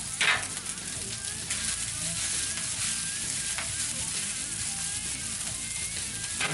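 Rice fries in a pan for fried rice, a steady close sizzle and crackle with occasional scrapes and stirring clatter running continuously.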